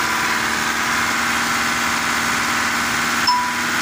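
A 2010 Mitsubishi Dakar diesel engine idles steadily and close up, a continuous even rumble with a faint ding near the end.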